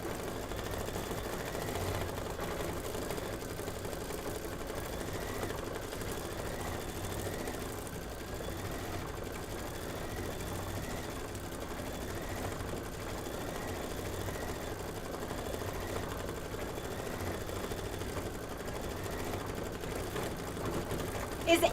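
A home embroidery machine stitches out an autumn-themed design with a steady, quiet rapid needle rhythm, running continuously at an even level throughout.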